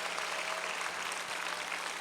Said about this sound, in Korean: 믿으면 박수 치며